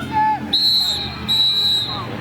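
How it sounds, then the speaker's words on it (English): Referee's whistle at a youth 8U football championship game, two sharp shrill blasts in quick succession over crowd chatter in the stands. "Got a whistle."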